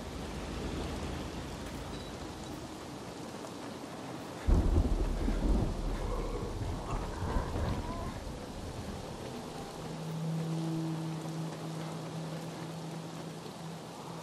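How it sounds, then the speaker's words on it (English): Rain and thunder in the video game Dying Light 2 form a steady hiss of rainfall throughout, broken near the middle by a sudden deep thunder crack that rumbles off, with a low tonal hum emerging later. "It says that it's raining"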